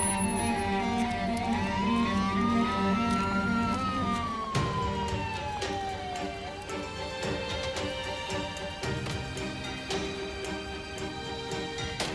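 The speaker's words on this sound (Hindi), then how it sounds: "देखो, एम्बुलेंस आ गई है" An ambulance siren wails loudly over a busy street, its pitch sweeping up and down in a long continuous tone over layered background sound.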